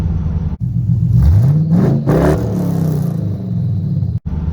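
A loud LS-swapped V8 in a 1979 Pontiac Firebird Formula revs up and down close by, a deep rumbling idle rising into a throaty roar, then settling back, with no talking.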